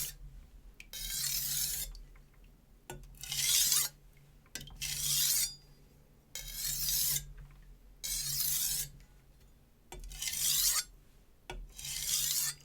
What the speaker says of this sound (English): I'm going very gentle because this is a very coarse stone